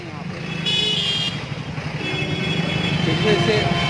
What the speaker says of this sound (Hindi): और ये ट्रैफिक काफ़ी रहता है यहाँ पर